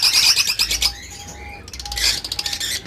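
Lovebirds and cockatiels chirp and squawk in a busy breeding setup, a dense stream of close, sharp calls with a thin steady whistle running beneath.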